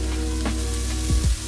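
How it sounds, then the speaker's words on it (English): Onion frying without oil in a pan over medium heat, a steady loud sizzle with a couple of stirring scrapes near the end, no talking. "So you don't have to use any oil for cooking, we just kind of frying it, you know, on the medium level."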